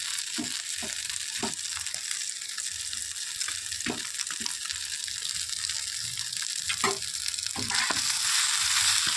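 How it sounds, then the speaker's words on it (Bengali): Maggi noodles are being stirred with vegetables in a hot pan, giving a close, steady sizzle broken by repeated scraping and clattering strokes of the spoon. "ম্যাগি মিক্স করে দিব এবার আমি দু দুটো এখানে ম্যাগি নিয়েছি দু প্যাকেট"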